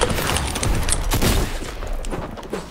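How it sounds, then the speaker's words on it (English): Assault rifle and SMG gunfire in Fortnite: a dense, rapid fusillade of loud shots and impacts, continuous and overlapping, with a few louder bursts standing out. "I was getting shot by an AR and SMG."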